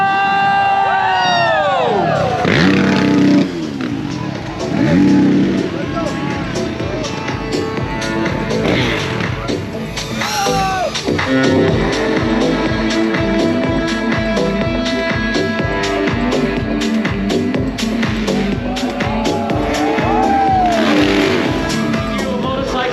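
Motorcycle engine revving hard during a stunt show at India Bike Week 2023, with rising and falling revs over a cheering crowd and an announcer shouting throughout.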